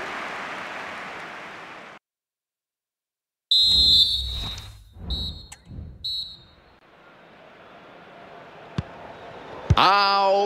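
A referee's whistle sounds in the EA Sports FC 25 football video game on Nintendo Switch, a few short shrill blasts following a burst of broadband noise, then a quieter stretch before a sharp final tone.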